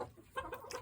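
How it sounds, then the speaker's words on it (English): Polish chickens clucking in short, soft bursts, fairly close, with a low background rumble and no talking. "Polish chickens."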